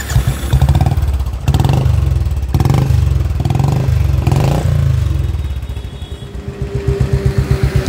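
A Royal Enfield Bullet motorcycle with a starting and pickup problem chugs loudly up close, its single-cylinder thump pulsing through bursts of revving that sag and pick up again, with no talking.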